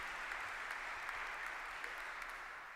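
Audience at a university honors ceremony applauds the faculty with steady, dense clapping, heard at a distance and fairly faint, with no talk over it.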